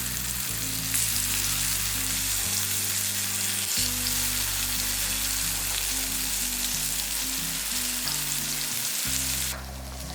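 Raw banana slices fry in oil over a slow flame, giving a constant, even sizzle with a low humming tone underneath that shifts briefly near the end.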